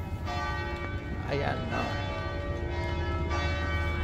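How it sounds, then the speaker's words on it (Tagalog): Church bell rings in Venice on a weekday morning at nine, a steady, sustained tolling over continuous street ambience, with a brief spoken interjection partway through. "Yun, tumunog na ang kampana."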